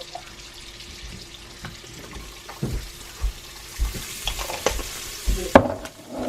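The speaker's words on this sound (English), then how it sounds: "So I'm going to put in a little bit more of that in with the butter." Minced garlic fries in butter with a low sizzle, punctuated by irregular knocks and clinks of a utensil in the pan, getting busier toward the end, close up with no talk.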